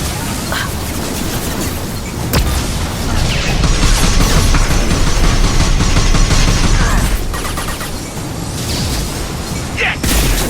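Flashbang grenades burst in a Mass Effect 2 firefight, loud sustained crackle and booms of game combat with dense gunfire running throughout.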